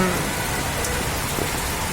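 Heavy rain pours down steadily on a flooded street in Chattogram city, a dense, constant hiss of drops striking surfaces with no voices present.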